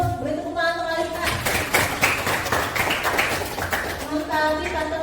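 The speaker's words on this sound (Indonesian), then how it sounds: "Beri tepuk tangan untuk Alika." A classroom of young students claps for a classmate in a short, loose burst of hand claps, framed by a teacher's voice speaking before and after.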